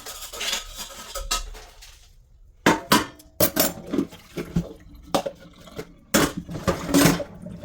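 Ceramic and metal dishes clatter and clink in irregular bursts as they are stacked and moved nearby, with occasional sharp knocks and quiet gaps.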